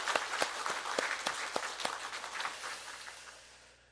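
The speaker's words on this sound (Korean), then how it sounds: "격려의 박수 한번 칩시다." Congregation applause at a Sunday morning church service, a burst of many hands clapping that thins out and fades away over a few seconds.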